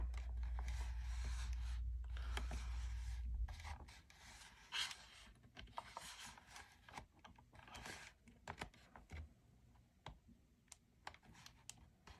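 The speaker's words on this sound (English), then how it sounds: "So I guess I'll start with prying." Plastic clicks, scrapes and small snaps from prying open the case of a Steam Deck handheld for a storage upgrade, close and irregular after a steady low hum at the start, with no talking.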